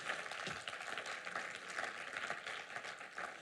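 A church congregation applauds the Lord in steady, sustained clapping, a dense wash of many hands heard from a middle distance throughout, with faint voices mixed in.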